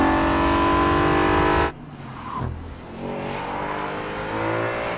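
A 2012 Audi RS5 Cabriolet engine roars at high revs, then drops abruptly and settles into a lower, rumbling growl that swells again, close and loud.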